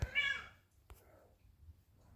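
A kitten, part of a feral cat population, gives one short, clear meow up close, followed by quiet background noise.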